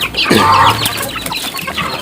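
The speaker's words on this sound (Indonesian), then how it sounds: "Ayam-ayam saya langsung rebutan" Chickens in a backyard coop at feeding time, crowding for high-protein feed, give a burst of clucks and squawks up close, with one loud call standing out over a busy flock background.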